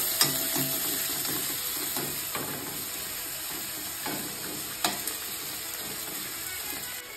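Onion, green chili, ginger and garlic fry in a pan while being stirred slowly, a close, steady hiss of sizzling oil broken by a few sharp clicks and scrapes of the spoon.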